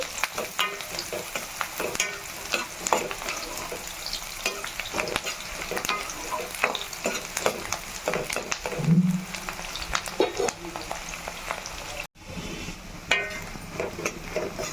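Goat tripe curry with onions stirred and frying in a pan, a steady close sizzle with scraping spoon strokes throughout and no talking.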